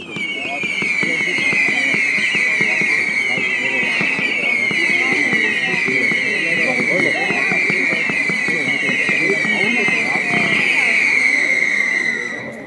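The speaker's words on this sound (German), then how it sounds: "Ebenfalls eine schöne Silberheulerbatterie mit schönen knallen Bouquets. Und schönen bunten Leuchtkugeln am Ende." A Vuurwerktotaal Wicked Whistle firework battery fires continuously, with a steady high shrill of silver howlers over dense, rapid crackling bangs for about twelve seconds.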